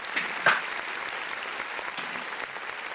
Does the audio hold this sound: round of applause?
yes